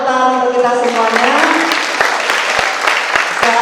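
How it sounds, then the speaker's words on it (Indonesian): Audience applause at a student skills competition ceremony, a loud burst of many hands clapping together that follows a voice and continues with crowd noise to the end. "Tepuk tangan untuk kita semuanya"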